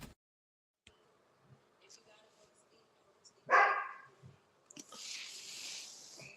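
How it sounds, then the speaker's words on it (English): A dog barking off in the background of a room, one sharp burst of barks followed by a brief buzzy noise, distant but clear against a quiet backdrop. "I hear my dog back there, man, going crazy."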